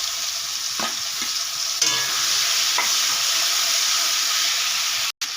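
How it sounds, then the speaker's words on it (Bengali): Prawns fry in hot oil in a wok, a steady loud hiss and crackle of sizzling with faint stirring scrapes throughout, cutting off abruptly near the end. "তেল গরম হয়ে গেছে, চিংড়ি মাছটা দিয়ে দেব।"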